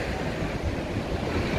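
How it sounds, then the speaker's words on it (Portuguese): Sea waves washing up onto the seaside promenade at Balneário Camboriú, a steady loud rushing wash of surf that fills the moment without a break. "O mar tá lavando quase aqui em cima da calçada, pessoal."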